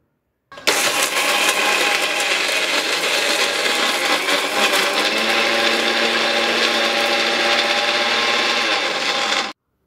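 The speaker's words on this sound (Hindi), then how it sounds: "एक मिनट के लिए ग्राइंड करेंगे" Blender jar grinding raisins, melon seeds and black pepper for almond milk, a loud steady motor whir running continuously for about nine seconds after a sudden start, then cutting off.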